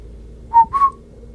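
Two short, clear whistled notes sound against a faint low hum, the second slightly higher and sliding, like an eerie whistle in a horror story.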